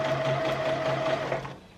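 Sewing machine stitching the side seams of a shirred square-neck blouse with puff sleeves, a close, steady motor whir with rapid needle ticking for under two seconds before it slows.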